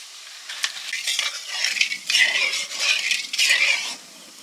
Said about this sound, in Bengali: কালো জিরেটা ভাজা হয়ে গেছে।